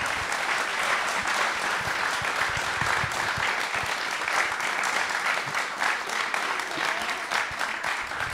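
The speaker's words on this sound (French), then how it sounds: "On peut l'applaudir, je crois." An audience bursts into sustained applause after an interview with Marc Dufumier on the environment, steady dense clapping filling the room without pause for the full stretch.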